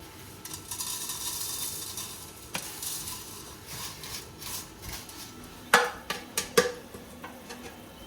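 Vermicelli is stirred and roasted in ghee in a pan, giving a soft continuous sizzle with scraping spoon strokes and a few sharp clinks of utensil against the pot near the end.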